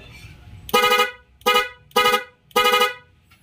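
A PIAA car horn wired with a relay honks four times in short, loud blasts with brief gaps between them, close by, with faint background noise.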